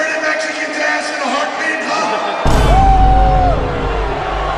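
Crowd of wrestling fans at an event cheering and yelling, steady and loud, with a sudden burst of louder roaring partway through.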